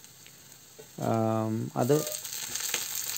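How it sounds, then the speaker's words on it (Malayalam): Mustard seeds, shallots and curry leaves crackle and sizzle in hot oil as tempering for a paripp, tomato and drumstick curry. The loud frying hiss bursts in suddenly beside a brief spoken word. "ചെറിയുള്ളി മൂത്ത് കഴിയുമ്പോൾ അതിലേക്ക് കറിവേപ്പില ഇടുക, ആ കറിവേപ്പില ഇട്ട് മൂപ്പിച്ച് നമുക്ക് കടുക് താളിക്കാം."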